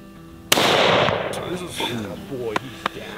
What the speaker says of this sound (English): we found a big 4-point and Chris was up to shoot